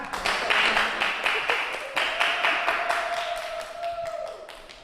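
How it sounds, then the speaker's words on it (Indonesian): A class of students in a classroom claps in unison, sharp regular strikes about four per second, loud at first and then slowly thinning out. A steady faint tone lingers underneath. "Kasih tepuk tangan dulu biar semangat"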